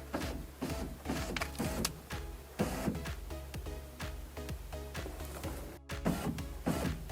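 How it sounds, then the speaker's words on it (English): An electric front window on a BMW E46 coupe or convertible lowers with a steady motor whir broken by repeated ticking pulses, close and fairly quiet, alone without talk. "and now we'll bring the window down."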